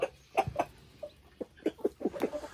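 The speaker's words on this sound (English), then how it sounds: "this is what you call a English Orpington chocolate." A large chocolate English Orpington rooster and his hens cluck in short, uneven bursts, several close calls spaced irregularly across a few seconds with no voices.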